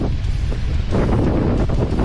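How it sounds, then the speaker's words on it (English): Cold wind whips steadily across the open shoreline of a Florida Eastern Panhandle campsite by clear water, a loud, continuous roaring rush with gusty surges and no one talking. "just a cold wind down here"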